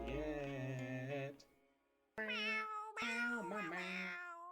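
A voice imitates a cat with three drawn-out, close meows, the first long and sliding, then a pause before two more wavering calls in quick succession.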